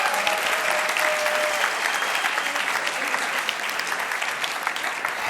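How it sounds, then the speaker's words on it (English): Crowd applause for third place winners at the 2018 Imagine Cup World Championship finals: dense, steady clapping from a large audience throughout, with faint background voices and a few cheers. "One more round of applause for our third place winners."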